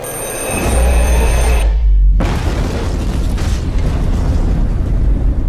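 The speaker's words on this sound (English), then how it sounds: "Ah, fireworks. Always a good way to start a festival." Fireworks going off at the opening of a festival, a loud deep boom that cuts off a bright tone and then rumbles on as a steady crackling roar.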